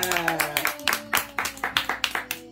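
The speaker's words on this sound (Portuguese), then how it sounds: "eu quero uma salva de palmas pra Crislaine de São Paulo" A small group claps in an even, rhythmic beat, each clap sharp and distinct, with steady background music continuing underneath.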